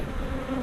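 Honey bees buzz around a hive during a comb honey harvest, a steady, close, continuous drone with no speech.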